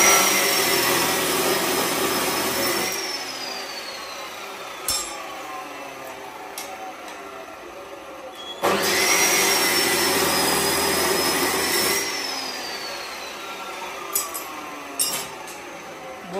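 A cutter machine runs in a DJ speaker box workshop, its loud whining drone rising in two long cutting passes with quieter running and occasional sharp knocks between them.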